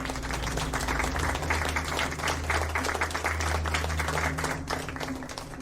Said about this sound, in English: we're celebrating the lovely clap and fart